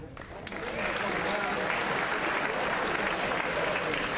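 Convocation audience at Lindenwood University-Belleville bursting into applause and cheering, swelling within half a second into a full, sustained wall of clapping and crowd noise with voices mixed in.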